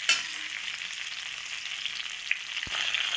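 Pieces of pointed gourd (potol) fry in a pan with salt and turmeric, giving a continuous near crackling sizzle with a brief stirring knock partway through.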